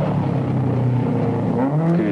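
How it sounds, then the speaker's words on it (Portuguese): A rally car on a special stage of the Rallye de São Miguel drives past with a steady, fairly loud engine drone that rises slightly in pitch, heard alone without talk. "E aqui temos a seguir a passagem do vencedor desta classificativa e da próxima, Luís Franco,"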